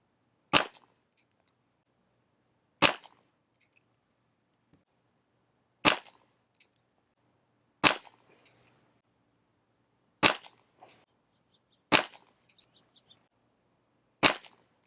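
Dan Wesson 715 airgun revolver firing BBs: seven sharp, loud cracks spaced about two seconds apart, each dying out quickly into near silence.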